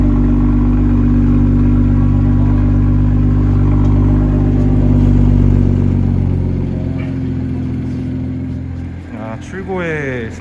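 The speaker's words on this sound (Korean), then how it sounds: "아, 배기 소리도 확실히" A BMW M340i's exhaust rumbles steadily with a deep, throaty idle, loud and close, before the engine note drops and revs briefly near the end.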